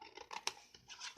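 Scissors cutting paper for a Halloween jar luminary, heard as a few quick, faint snips and rustles in quiet surroundings.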